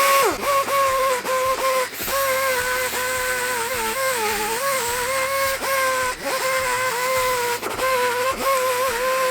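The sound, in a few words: grinder bit relieving Ford 302 engine block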